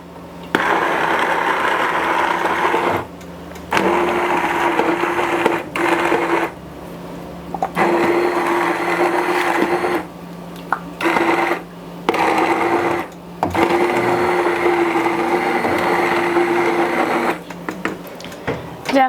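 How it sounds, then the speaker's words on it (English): An immersion blender whirs through soup in a pot in a home kitchen, running in several loud, steady bursts separated by short pauses, each burst holding an even motor whine. "I'm gonna grab that immersion blender, and then I'm gonna give this a taste"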